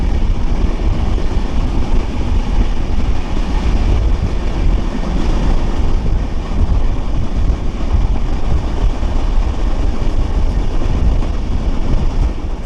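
Steady, loud rumble and rattle from inside the Drutojan Express train running between Dhaka and Panchagarh, a continuous dense roar with no breaks and no voices.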